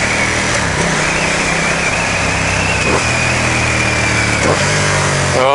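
A Ducati XDiavel S motorcycle engine pulls hard while riding, a loud close rumble that climbs and drops through rev sweeps and gear changes, with no speech.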